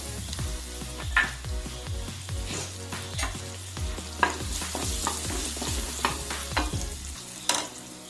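Curry leaves sizzling and spluttering in hot coconut oil in a pan, with quick crackles and pops, while a spoon stirs in a steady rhythm, close up with no talking.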